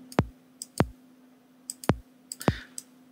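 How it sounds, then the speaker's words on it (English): A top kick drum sample from a plastic-cup percussion build hits four times in a loose pattern, each a short punchy thump with a bright click, over a steady low hum. "This is a top kick."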